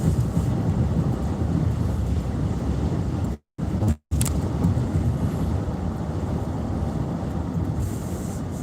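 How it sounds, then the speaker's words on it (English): Strong wind roars steadily against the microphone, a heavy continuous rumble that cuts out briefly twice before resuming at full force. "Can't believe how windy it is."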